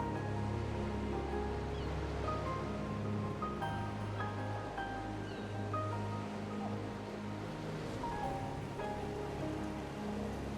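Steady ocean surf rolls on without a break under soft background music, playing on a stream's break screen during a Final Fantasy XVI broadcast, with no talking.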